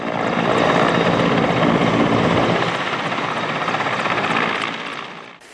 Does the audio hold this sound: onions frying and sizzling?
no